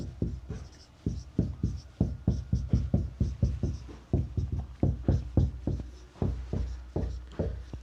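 Pen or chalk writing out letters of the alphabet by hand, a quick run of short, evenly paced strokes and taps close by, with brief pauses between groups of letters.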